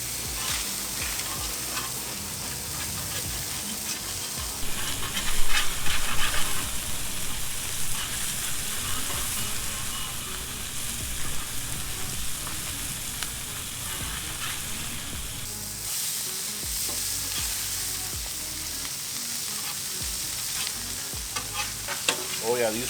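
Salmon fillets cooking on a Blackstone griddle, a loud continuous sizzle and crackle like heavy rain, with occasional scraping from a spatula.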